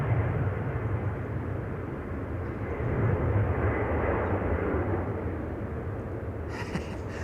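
A Boeing 737 MAX 8 jet departs runway 18 left at Amsterdam Schiphol, a steady broad distant engine roar that swells slightly midway and stays continuous throughout.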